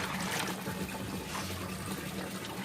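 Water runs and splashes over bagongon sea snails as they are rinsed, a faint steady trickle and slosh of liquid throughout.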